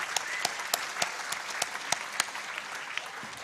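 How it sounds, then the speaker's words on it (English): A hall audience applauds the participants at a national quiz competition grand finale, steady dense clapping throughout, fairly distant and even in level. "Can we please have a huge round of applause for all the participants present here?"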